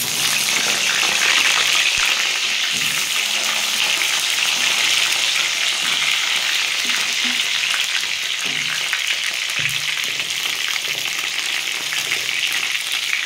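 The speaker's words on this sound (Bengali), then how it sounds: "এবার ওই তেলের মধ্যে আমি বেগুনগুলো একটু ভেজে নেব।" Brinjal (eggplant) pieces seasoned with a little turmeric and salt fry in hot oil, giving a steady, loud, continuous sizzle that stays even from start to finish with no voices.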